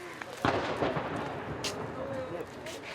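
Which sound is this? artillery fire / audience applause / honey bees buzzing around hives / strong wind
artillery fire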